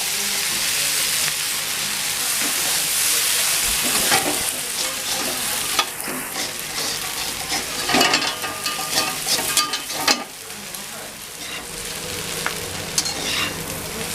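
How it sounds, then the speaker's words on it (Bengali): Egg chowmein is tossed over cooked vegetables in a pan: a close, continuous frying sizzle with repeated scraping and clattering stirs that grow busier midway, and no speech. "আমি সবজির উপরে চাউমিনটা দিয়ে দেব। চাউমিনটা একটু নাড়াচাড়া করে দেব।"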